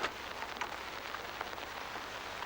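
Nighttime rain falls steadily by a river, a soft, even patter of drops on surfaces with a few slightly sharper hits, heard alone and fairly faint.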